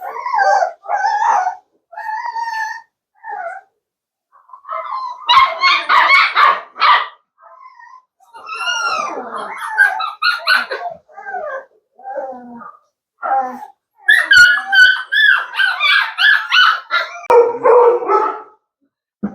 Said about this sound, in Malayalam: ഇതൊക്കെ ബുൾ മാസ്റ്റിഫിന്റെ കുട്ടികളാട്ടാ